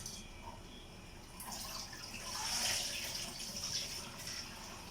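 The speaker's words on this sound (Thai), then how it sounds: "พอลวกเสร็จแล้วก็ต้องมาล้างน้ำเย็นนะ" Cold running water rinsing freshly blanched thin rice noodles, a steady tap-and-splash wash that swells louder midway, close and continuous with no talking.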